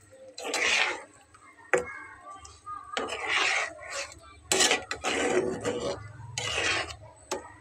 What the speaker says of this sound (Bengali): খুব ভালো করে নেড়ে চেড়ে মিলিয়ে দেব।